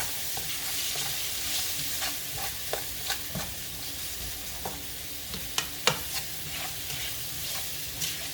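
Vegetables sautéing in a pan for a vegan cornbread dressing: a steady, fairly loud sizzle runs throughout, broken by scattered clinks and scrapes as they are stirred.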